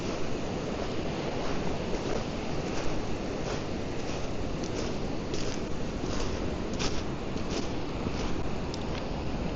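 Pacific Ocean surf at Rialto Beach, a steady, loud roar of breaking waves with wind noise buffeting the microphone throughout.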